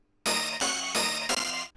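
Two 90s rave stab synth layers from the Rave Generator plugin stacked together, a dense, bright chord struck four times back to back with a sustained tail, loud and alone.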